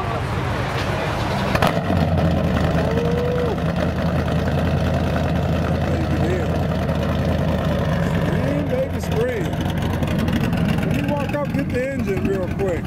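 A 1970 Chevy Monte Carlo with a 530 HP engine rumbling at idle, a loud, steady, deep throb close by, with people talking over it.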